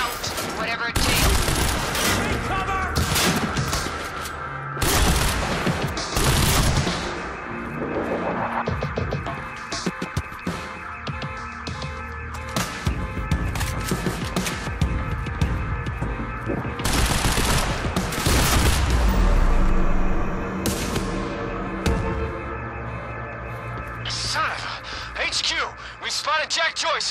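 Bursts of automatic gunfire in the video game Quantum Break erupt repeatedly in loud rapid volleys, mixed with booms and a throbbing score, while voices talk between the shots.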